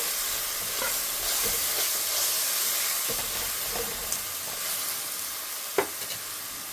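Andhra-style mutton curry ingredients fry in a pan with a steady hissing sizzle, broken by a few sharp clinks and stirring scrapes.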